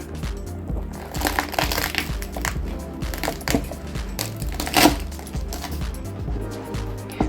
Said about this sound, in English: now they're all rolled up, and I'm going to start cutting them